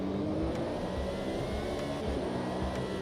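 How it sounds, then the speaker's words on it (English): A racing car engine in a racing video game revs with a raspy, buzzing drone that swells and eases, steady and fairly close, with no talking. "Sounds very raspy, doesn't it, this engine?"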